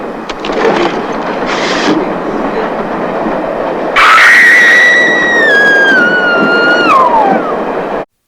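A train rumbles steadily, then a loud screeching squeal of brakes or wheels rises and slowly falls in pitch before cutting off.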